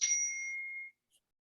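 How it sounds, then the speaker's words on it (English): A single bell rung to quiet a class during an improv scene: one clear, ringing ding with two bright tones that ring out for almost a second and then fade, with no talk over it. "And I have my bell."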